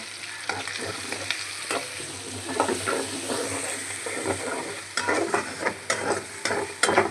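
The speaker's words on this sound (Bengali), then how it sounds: "চিংড়ি মাছটা সুন্দর করে ভাজা ভাজা হয়ে গেছে" Shrimp frying in oil, a close, hissing sizzle broken by repeated spatula scrapes and knocks against the pan, growing busier in the last seconds, with no talking.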